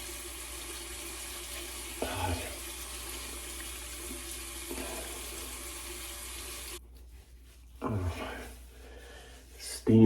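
A faucet runs hot water with a steady hiss into a sink, broken off partway through by a few knocks and handling sounds close by.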